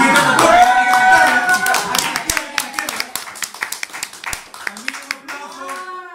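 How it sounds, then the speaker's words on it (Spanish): A family gathering applauds a volunteer, with scattered hand claps rising in rhythm under voices and singing-like talk, the claps growing sparser and more distinct toward the end. "que tiene un aplauso para ella."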